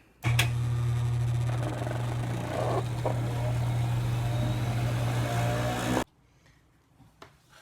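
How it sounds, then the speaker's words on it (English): A microhematocrit centrifuge spinning in a veterinary lab, a steady loud motor hum with a strong low drone holding for about six seconds before cutting off abruptly into near silence with a few faint clicks. "So our microhematocrit has stopped spinning."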